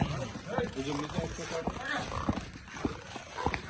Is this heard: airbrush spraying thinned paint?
no